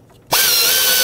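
A power ratchet tightens a bolt on the intake bracket of a 1997-2003 Ford F-150 5.4L two-valve engine. It kicks in abruptly after a quiet moment and runs as a steady, loud, close whir.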